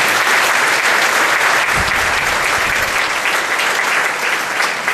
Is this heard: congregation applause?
yes